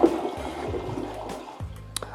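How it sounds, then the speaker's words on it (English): Heavy flush of a hotel bathroom toilet at The Venetian in Las Vegas, a short rushing surge of water that tapers into gurgling and trickling, close and with no voices. "And now for the heavy flush."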